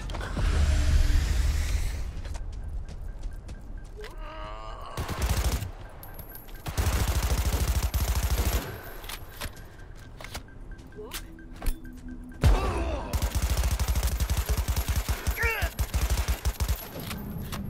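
Rapid, loud bursts of automatic gunfire from the video game Cyberpunk 2077, with broad crackling volleys separated by short pauses and occasional single shots, mixed with game effects and some voice in the background.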